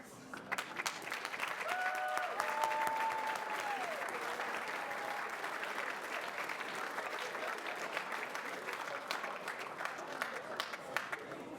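Steady, sustained applause from a large audience at a college convocation honoring honor roll students, even and continuous throughout, with faint voices and a brief tonal sound early on.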